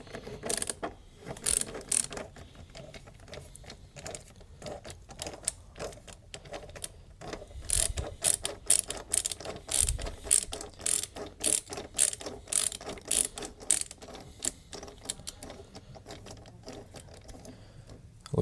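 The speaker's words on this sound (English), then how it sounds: "This one I'm just going to use a ratcheting screwdriver." A ratcheting screwdriver loosening a hose clamp during sensor work on a 3.0 Duramax diesel engine, producing rapid runs of close, crisp clicking in repeated bursts, heaviest in the middle stretch.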